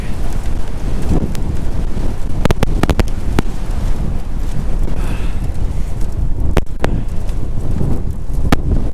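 Strong wind gusts on a freezing mountain hike, continuous heavy roaring buffeting against the microphone with sharp crackling pops and thumps scattered throughout.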